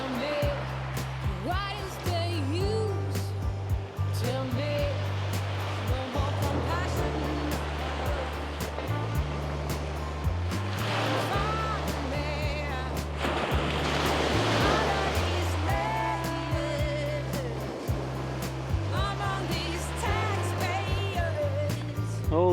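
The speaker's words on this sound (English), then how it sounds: "When those waves come in" Waves break and wash repeatedly onto the shore at Charmouth beach on the Jurassic Coast, Dorset, as the tide comes in, a continuous surging roar with wind, with people talking over it.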